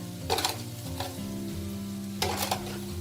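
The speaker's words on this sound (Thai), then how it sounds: "เมื่อกระเทียมและรากผักชีของเรานะคะ เริ่มหอมแล้วค่ะ ให้ใส่น้ำตาลทรายลงไปเลยค่ะ" Garlic and coriander root fry in hot oil as sugar goes in, giving a loud, continuous sizzle with two bursts of stirring and scraping, and no talking.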